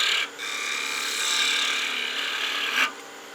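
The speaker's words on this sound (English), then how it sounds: "I'm going to go back to the spindle gouge. Continuing this sweep." A spindle gouge cuts a wooden gnome Christmas ornament spinning on a lathe, making a steady, close scraping hiss for about three seconds with brief dips where the tool lifts.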